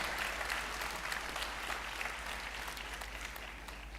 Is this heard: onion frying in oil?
no